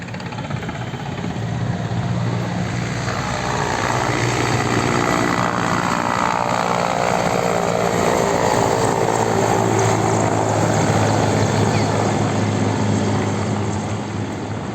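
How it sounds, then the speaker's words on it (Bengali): A propeller airplane drones loudly overhead, its engine roar swelling and holding steady for several seconds before slowly easing off. "দেখছো কত সুন্দর বিমানটা উড়ে গেল"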